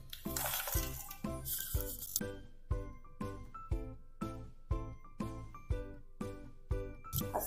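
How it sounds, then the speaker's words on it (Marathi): Jaggery being stirred into cooked chana dal for puran poli, a steady rhythm of roughly a dozen close metallic spoon strikes against the pot, each followed by a brief ringing tail, with a burst of clattering at the start. "आता ह्या डाळीमध्ये मी गूळ मिक्स करणार"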